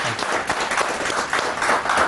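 Studio audience clapping to welcome a guest on an interview show, a dense, steady wash of many hands at moderate loudness throughout.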